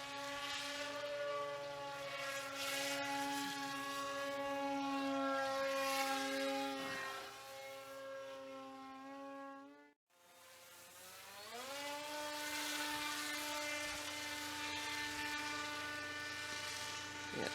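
A foam RC wingsuit-design model airplane flies overhead with a steady, whining electric motor tone that glides in pitch, dips briefly to near silence, then surges back loud as it climbs steeply.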